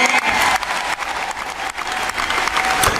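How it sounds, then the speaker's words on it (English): An audience at a Labour Party conference applauds at the end of Jeremy Corbyn's speech, sustained, loud and dense clapping filling the hall with a faint crowd murmur and no speech over it. "that was the end of his speech, and they clapped, and they stood up"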